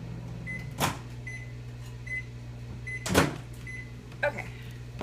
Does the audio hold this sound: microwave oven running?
yes